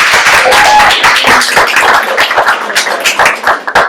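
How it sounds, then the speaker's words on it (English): Loud, close applause from an audience at a high school girls' basketball talk for Coach Baker, dense clapping that thins into scattered claps toward the end. "Y'all give Coach Baker a round of applause."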